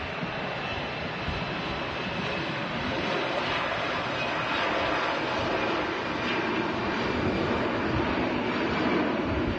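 An EasyJet airliner on its takeoff roll at Manchester Airport, a continuous broadband jet roar that stays steady and fairly distant with no talk over it.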